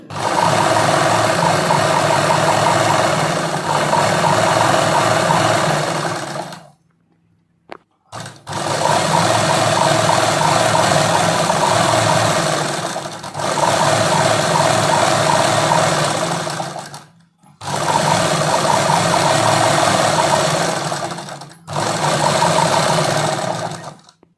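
A sewing machine runs in long continuous bursts, stitching lining onto a kurti, its fast mechanical chatter loud and close, stopping briefly between runs of stitching.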